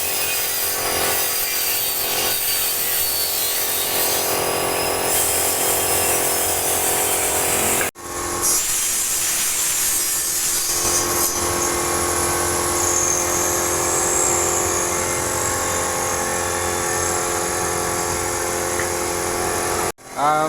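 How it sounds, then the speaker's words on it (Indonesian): A circular saw cuts through plywood panels for wall moulding, a loud, sustained whining screech with the blade briefly stopping and restarting, no one talking. "gergaji circle"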